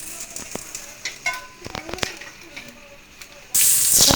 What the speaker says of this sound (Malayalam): അടുത്ത ട്രിപ്പ് ദേ അവിടെ കിടന്ന് മുരിയുന്നു